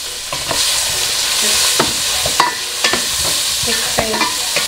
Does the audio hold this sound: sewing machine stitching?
no